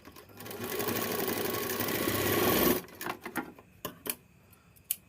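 A sewing machine runs in a fast, continuous whir for about three seconds while stitching the cross piece of a blouse, then stops and gives way to scattered clicks and fabric handling.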